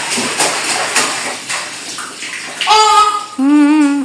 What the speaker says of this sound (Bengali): এই যে তোমার ছোট মগ, মেলামিনের মগ নাও, সেই ছোট মগ নিয়ে গোসল করে।